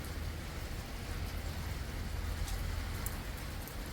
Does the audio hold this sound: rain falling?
yes